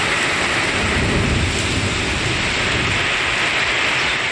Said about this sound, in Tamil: அருப்புக்கோட்டை சுற்றுவட்டார பகுதிகளில் சூறை காற்றுடன் கனமழை கொட்டியது